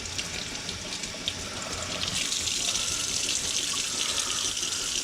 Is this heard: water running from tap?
yes